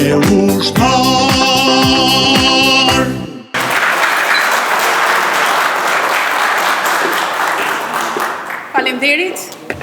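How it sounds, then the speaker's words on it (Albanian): Audience applause for a song at a military school anniversary ceremony, breaking out loudly right after the music's final bars and continuing as a dense, sustained clapping that slowly thins toward the end. "Faleminderit dhe ju për duartrokitje që e shoqëruat këngën."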